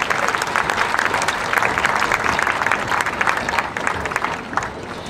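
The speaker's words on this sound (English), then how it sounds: "Please give a round of applause for our 45 community fair directors." Fair audience at the West Lampeter community fair applauding its directors, a steady dense clapping that holds for several seconds at full strength and eases slightly toward the end.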